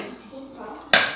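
A lid comes off a cooking pot of Sunday lunch, beef ribs with cassava, with a sudden bright metallic clatter near the end after a stretch of quiet kitchen background.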